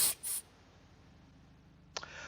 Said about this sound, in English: I used a small burst of compressed air to pop the piston out